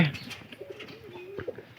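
Domestic pigeons coo at close range, a few soft, rolling throaty calls over quiet background rustle.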